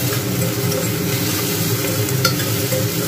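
Whole spices sizzle steadily in hot oil in a pressure cooker for chicken stew, giving a close, continuous crackle with a faint stir or scrape, and no talking.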